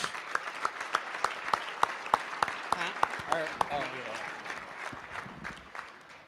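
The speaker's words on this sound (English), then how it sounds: "Ladies and gentlemen, big round of applause." Audience clapping at a charity auction, first as sharp, evenly spaced claps and then a fuller round of applause, with voices murmuring underneath toward the end.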